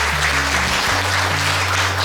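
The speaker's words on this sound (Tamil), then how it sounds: "அவங்களுக்கு ஒரு பலத்த கைத்தட்டல் முதல்ல கொடுத்துருங்க" A crowd at a Diwali celebration for sanitation workers applauds, a dense, continuous patter of many hands over a low steady hum that runs through the whole short stretch.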